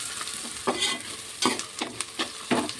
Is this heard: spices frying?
yes